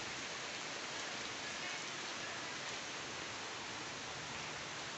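Heavy rain pours down steadily in Karachi, a dense, constant hiss of water drumming on surfaces that stays loud and unbroken throughout.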